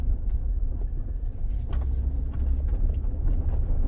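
A 2003 GM truck with a 4L60E automatic transmission drives and shifts from first into second gear, a low steady engine and road rumble close by, with no talking.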